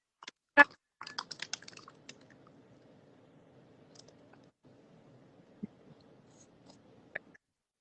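A computer keyboard clicks in quick bursts of close, crisp keystrokes, with a sharper tap near the start and a few isolated clicks later, over a faint low hum and no talking.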